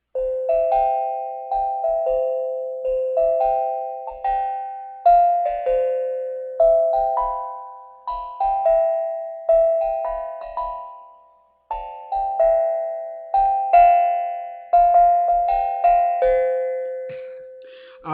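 A bell tune rings out, each struck note clear and sustained in a steady melodic sequence of single tones, played alone and close by without talk.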